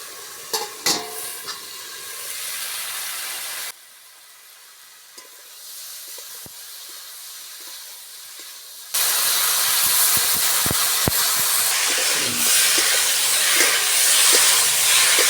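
Cucumber and tomato cooking down in a pan, a steady broadband hiss and sizzle with stirring scrapes, quieter for a stretch in the middle before returning loud and dense.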